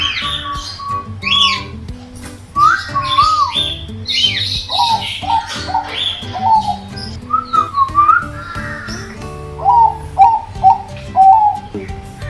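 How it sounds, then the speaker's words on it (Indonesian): Zebra dove (perkutut) calls in a home setting, a series of clear whistled coos in short repeated phrases, fairly close and prominent, with other faint chirps mixed in and no talking. "harus pakai perkutut supaya lebih terasa lagi suasananya"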